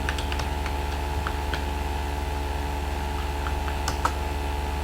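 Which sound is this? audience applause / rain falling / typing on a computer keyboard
typing on a computer keyboard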